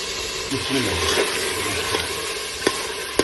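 Beef keema with peas sautéing and sizzling steadily in a pan, a continuous close frying hiss with a few soft clinks of stirring.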